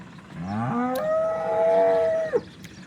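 A cow on a dairy farm gives one long, loud moo that rises and holds steady for over a second before breaking off, with no talk over it.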